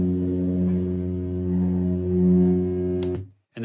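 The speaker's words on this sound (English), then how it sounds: "This is the projector motor hum." A film projector motor gives a loud, steady, rich harmonic hum. It drones on evenly for about three seconds, then cuts off abruptly into silence before a brief noise at the end.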